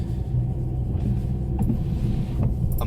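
A car crawling along a snowy road in first gear, its engine holding a steady low rumble close by, with a few faint clicks and knocks from the cabin and no one speaking.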